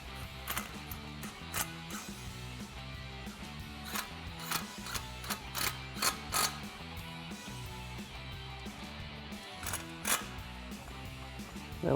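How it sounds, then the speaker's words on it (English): Ratchet with a T30 Torx bit tightening bolts on a Jeep Wrangler JL soft top: irregular clicking ratchet strokes and metallic taps, close and moderately loud, over a steady mechanical background. "Now we'll once again grab our T30 Torx bit and tighten these down."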